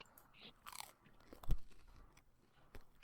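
Crunchy bites into a grilled cheese sandwich, close and fairly quiet, with a few sharp crunches and chewing over about three seconds and one louder bite in the middle, without talk.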